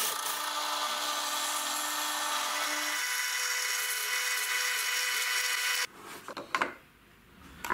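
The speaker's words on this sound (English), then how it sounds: "And then using a drill bit to mark out a mounting hole." A drill bit whines steadily into wood, marking a mounting hole, its pitch dropping partway through, then stops and gives way to a few short scraping and rubbing sounds.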